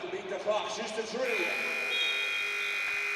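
End-of-quarter buzzer at a U18 women's basketball final, a sustained electronic tone sounding over crowd noise and commentary chatter, starting partway through and holding to the end.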